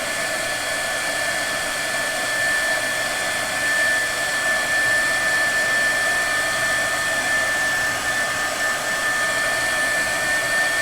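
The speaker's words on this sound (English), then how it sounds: "Let's get the heat gun." A heat gun blows steadily and loudly at close range over heat shrink on server cables, a constant whining airflow roar with a thin high tone and no pauses.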